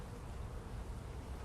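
Honeybees hum around an opened hive frame, giving a faint, continuous low buzz with no voices and no clear breaks.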